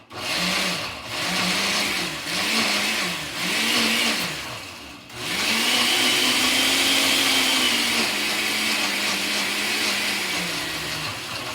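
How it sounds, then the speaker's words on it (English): A kitchen blender whirs through white bean dip, loud and close, first in four short pulsing bursts and then in one long sustained run whose motor pitch wavers as the thick mixture churns. "I'm gonna blend it up."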